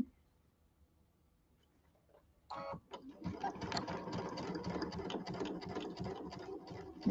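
A sewing machine stitching a scant quarter-inch quilt seam on a table topper, quiet at first, then a steady close whirring run of rapid needle stitches that continues to the end.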